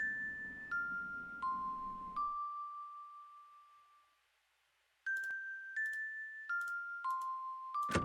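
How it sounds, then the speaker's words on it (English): Bells rung by pulling a rope in the Quest for Glory: Shadows of Darkness video game, two descending series of four clear chimes separated by a few seconds of silence, each ring decaying smoothly. "I will pull the bells."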